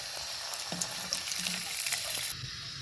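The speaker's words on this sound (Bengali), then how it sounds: "এইভাবে সবগুলো ভেজে নেব।" Egg yolk chops sizzle and crackle steadily in hot oil, a close, bright frying hiss with a few soft pops and stirring clinks, no voices.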